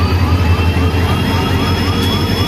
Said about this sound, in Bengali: ইঞ্জিন বেরিয়ে যাচ্ছে